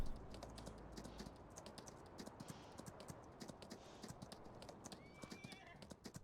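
Horse hooves clip-clop in Farming Simulator 19 with a steady, quiet rhythm of soft taps. Faint game ambience runs underneath.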